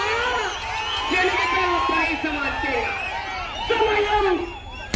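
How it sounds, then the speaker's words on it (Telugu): Crowd at a bull race shouting, cheering and whistling, a dense mass of voices with rising whoops and shrill calls at moderate distance, continuous throughout. "కేకలు, చప్పట్లు, విజులు రావాల మిత్రమా."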